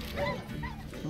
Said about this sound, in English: Since when do dogs and rot fiends work together?